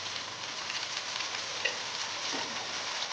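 A tablespoon of desi ghee sizzling in a pan of cooked aloo palak, a steady crackling fry close up with small pops, no voices.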